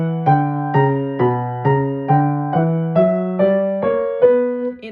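Piano playing a B harmonic minor scale in contrary motion, hands moving in opposite directions: ten evenly spaced struck notes, each ringing briefly and decaying before the next, clear and close with no talking.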